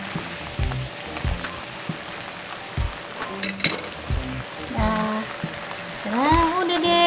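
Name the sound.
stirring teriyaki sauce cooking in pan without oil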